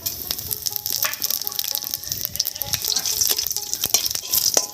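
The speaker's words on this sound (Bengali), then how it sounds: "ফোড়নটা বেশ ভাজা হয়ে গেছে" Panch phoron spices with dried red chillies and bay leaves frying in hot mustard oil for a Bengali spinach moong dal, giving a steady crackling sizzle with scattered sharp pops and light stirring clatter.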